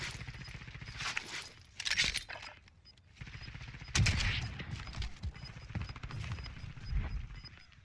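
Gunfire in a Warzone match comes in scattered bursts and single sharp shots, some near and some distant, with light footsteps and shuffling between them.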